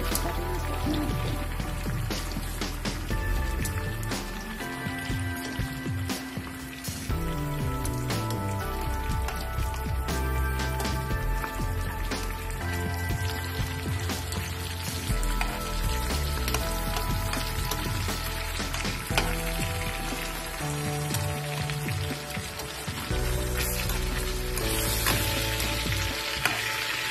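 Pork liver fries in oil in a covered pan, a dense, continuous crackling sizzle like rain that stays loud and close throughout, with no voices.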